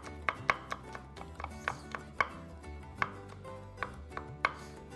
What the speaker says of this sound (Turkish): Ondan sonra küçük küçük minik minik doğrayalım.